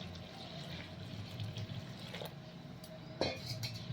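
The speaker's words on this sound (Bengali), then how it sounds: "এখানে আমি দিয়ে দেব পরিমাণ মতো উষ্ণ গরম জল" Warm water pours steadily onto granulated rice flour while making chitoi pitha, a continuous close splashing trickle with a brief louder gush near the end.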